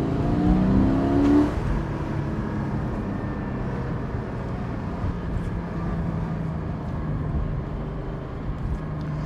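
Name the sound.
Porsche 718 Spyder exhaust note revving at high rpm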